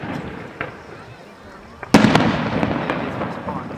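Fireworks at a fire truck rally, faint distant pops giving way to a sharp loud burst, then a dense run of crackling bangs.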